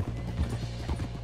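Horse hooves clop in a quick, uneven rhythm in the video game Red Dead Redemption 2 over a low steady hum, moderately close, with no voices.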